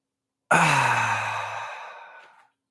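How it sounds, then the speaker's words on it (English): A single long, breathy draw of air through pursed lips during a breathing exercise, starting abruptly and loudly, then fading steadily over about two seconds, with no talking. "3 big inhales through the mouth with pursed lips."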